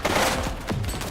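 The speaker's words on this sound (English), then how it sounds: "He's shooting!" Rapid automatic gunfire from a police action movie scene, a dense continuous burst of shots filling the whole moment, loud and close.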